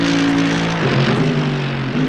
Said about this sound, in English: The car's very loud.